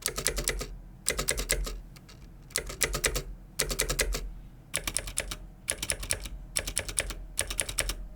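Typing on a Razer BlackWidow V3 Pro wireless gaming keyboard, with bursts of fast, close mechanical key clicks grouped into short rhythmic runs and brief pauses between them.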